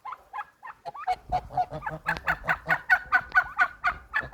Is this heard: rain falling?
no